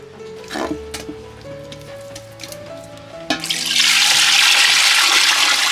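Drinking water from a 5-litre container gushes loudly into a pot after a few clunks and knocks, the pouring continuing steady and close for the last couple of seconds.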